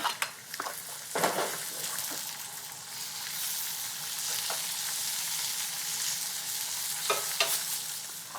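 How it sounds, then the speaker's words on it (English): Carrots cooking uncovered in a pan over raised heat to reduce the liquid, a steady bubbling sizzle with occasional sharp utensil clinks and scrapes against the pan. "I'm going to turn the heat up and take the lid off so that we can boil away some of the liquid"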